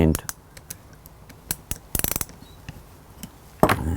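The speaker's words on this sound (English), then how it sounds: "Now I'm going to take the quick coupling off" Tool clicks and metallic ratcheting while the quick coupling is taken off an FX Impact MKII air rifle, scattered sharp ticks and a brief rapid burst of clicks, close up, with no talk.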